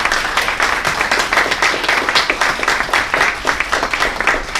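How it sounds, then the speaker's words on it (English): A crowd at a community political event applauding steadily, many hands clapping in a dense, even patter that holds at a loud level throughout. "So please, a round of applause for yourselves."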